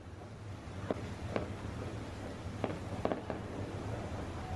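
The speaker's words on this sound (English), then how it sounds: "Oh, I think we have some fireworks going off." Hotel fireworks going off over a beach in Spain: distant pops and crackling bursts, about six in irregular succession, heard over steady surf-like background rumble.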